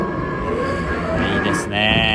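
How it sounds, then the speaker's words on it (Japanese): A JR local passenger train pulls away from a station, its low rumble and whirring motor building over about two seconds, with a higher tone rising near the end. "そしていよいよ同期が乗務した列車が発車しました。"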